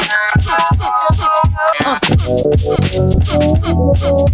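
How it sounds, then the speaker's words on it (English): A beat built from a Herbie Hancock sample with a flex fader effect, the loop chopped into rapid stuttering, scratch-like cuts over a steady rhythm, loud and upfront with no talking. "I can even get a little bit crazier and add a flex fader to it"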